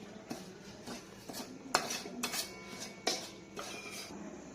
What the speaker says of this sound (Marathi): त्यामध्ये मी 1 वाटी रवा घातला आणि आता तो भाजून घ्यायचा